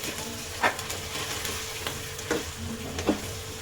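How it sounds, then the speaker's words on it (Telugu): Chopped onion with ginger garlic paste frying in oil, a steady soft sizzle punctuated by a few sharp scrapes and clinks of a spoon stirring the pan, close and fairly quiet with no talking. "ఇలాగ కలుపుకుంటే కొంచెం ఆయిల్లో ఫ్రై అవుతుంది"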